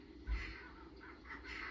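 A single caw-like bird call sounds briefly in a hunting video game, faint over a steady background hum.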